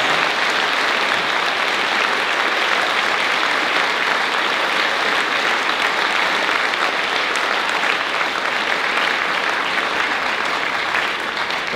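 Sustained audience applause for five panellists at a climate science panel event, a steady, full room of clapping that stays loud and even throughout with no speech over it.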